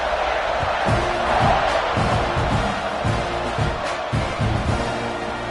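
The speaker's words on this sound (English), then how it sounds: "this crowd is buzzing after that last score" A football stadium crowd buzzes after a touchdown scored on a quarterback sneak, a steady roaring wash of many voices with a few louder swells and thuds, filling the whole stretch without pause.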